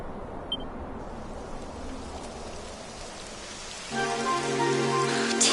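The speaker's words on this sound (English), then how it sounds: "It would have to go and start raining, wouldn't it?" Rain falls steadily in a video game, a soft patter that grows denser and louder partway through, with a brief tonal layer of game sound joining in near the end.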